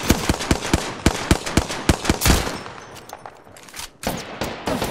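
Rapid automatic gunfire in the shooter game Apex Legends, loud and close, with rhythmic bursts, a brief pause, then more shots, without speech.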